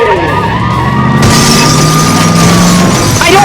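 Hot Wheels diecast cars race on a toy track and crash into a turn, giving a loud, continuous clattering, rattling plastic-and-metal crash noise throughout, with an excited voice yelling commentary over it.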